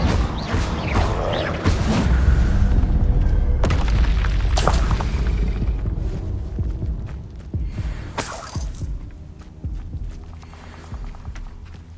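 A fire spell cast in the video game Hogwarts Legacy on PS5, heard as heavy booming blasts and crackling impacts amid continuous loud game action, with sharp bursts near the start and again later.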